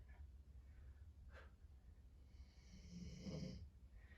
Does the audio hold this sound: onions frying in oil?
no